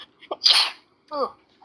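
One sharp, close sneeze bursts out after a quick intake of breath, followed by a short vocal sound, with near silence around it.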